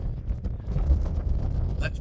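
Cold wind gusting across an open hillside viewpoint partway up a nab, a steady low rumble of wind buffeting the microphone throughout, with faint rustling and a brief brighter gust near the end.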